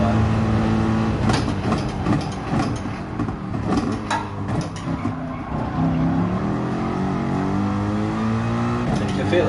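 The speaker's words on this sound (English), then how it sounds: "the car bogged down under acceleration there" Race car engine in GT Sport, racing at Fuji, bogging down as it accelerates under worn tyres; a steady loud engine drone with shifting pitch runs throughout, with a voice talking over it.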